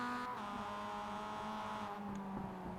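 Mazda MX-5 Cup race car on Tsukuba Circuit in iRacing, a steady engine drone with downshift pitch shifts and brief tyre scrub as it brakes hard, close and continuous without talk.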